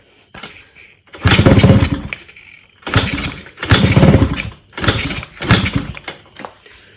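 A Yamaha RXZ two-stroke motorcycle engine fires up after a rebuild, catching in several loud revving bursts that sag and die between attempts, close by and struggling to idle on little fuel.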